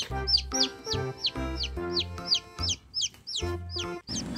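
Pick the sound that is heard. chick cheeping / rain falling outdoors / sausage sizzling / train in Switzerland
chick cheeping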